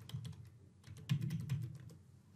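Quiet, close computer keyboard typing, a quick run of light key clicks in short bursts with no voice.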